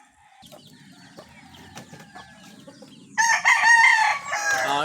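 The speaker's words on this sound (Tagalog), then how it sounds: "Habang hawak ko rin yung aking manok na tandang, aking pagbibitawin." A pet rooster, a fighting cock, gives a loud, close crow near the end, after a few seconds of quieter clucks and soft rustling outdoors.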